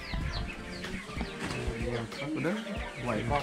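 Live chickens clucking at a village chicken seller in Bali, with busy overlapping clucks and squawks throughout, mixed with people talking nearby.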